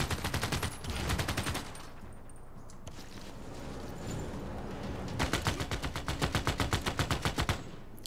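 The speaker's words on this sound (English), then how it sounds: "Mechanized infantry, it's just the best. And I can shoot again at the city." Mechanized infantry firing on a city in Civilization 6 as rapid automatic gunfire, a loud rattling burst at the start, a quieter stretch of battle noise, then a second strong machine-gun burst near the end, with no voices.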